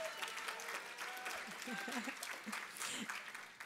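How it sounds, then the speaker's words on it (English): Gala audience clapping for an honoree, Professor Victor Narro, at the MALDEF 2023 Los Angeles Gala; soft, steady applause from a distance, with a voice talking over it. "I knew you guys were going to want to clap."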